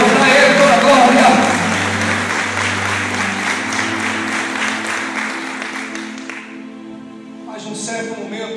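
A church congregation applauds during a worship service, a loud wash of clapping mixed with sustained music and voices that gradually thins out and fades near the end.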